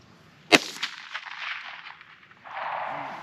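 A single .22 magnum rifle shot fired at a Tannerite target outdoors cracks sharply and loudly, followed by a short fading echo, then a stretch of faint wind-like noise.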